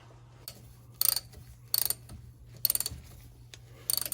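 Ratchet wrench tightening the rear differential drain plug on a 1990s Ford Ranger, four short bursts of rapid metallic clicking with pauses between, close and clear, no talking.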